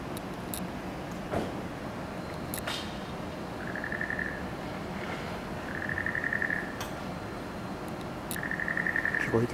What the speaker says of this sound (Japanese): シュリーレルアオガエル。 時々鳴きます。